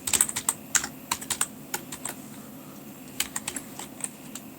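Keys clatter in uneven close bursts as Python code is typed on a computer keyboard for a prime-number program, with short pauses between the clusters of keystrokes and no talking.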